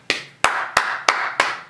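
Six sharp, evenly spaced claps, close and loud, each followed by a brief ringing decay.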